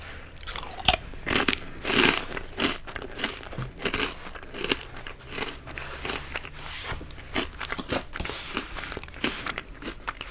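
Crunchy Hawkins Cheezies corn snacks being bitten and chewed close up, a steady run of sharp, crisp crunches with soft crinkling in a quiet room.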